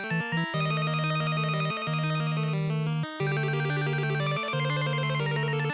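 Looping Final Fantasy III dungeon music with a steady sustained bass tone and bright, repeating chiming melody, playing continuously at a moderate level with no talking.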